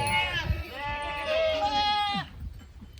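Goats in a farm pen give a long, loud wavering bleat close by, trailing off after about two seconds, with people speaking faintly around it.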